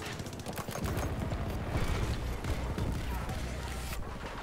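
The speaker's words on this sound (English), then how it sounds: "I like how my reload animation is bugged and just continuously shoots" Battlefield 2042 gunfire from a bugged reload animation that keeps shooting, a continuous rattling stream of rapid shots that fills the whole stretch, with a voice faintly present underneath.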